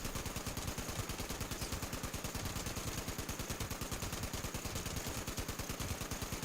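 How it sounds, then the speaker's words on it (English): Sustained rapid gunfire in the video game Fallout 76, an evenly spaced automatic stream of shots that runs steadily from start to finish at moderate loudness. "Somebody's shooting me"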